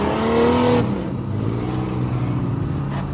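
Demolition derby cars race on a winter ice track in an arena in Long Prairie, Minnesota, their engines roaring loud and close, with a high revving whine at first that drops to a steady rumbling drone.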